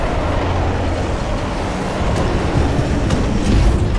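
A mine cart rolls along rails in Call of Duty: Advanced Warfare, a continuous rumbling clatter that builds slightly toward the end, close and loud with no speech.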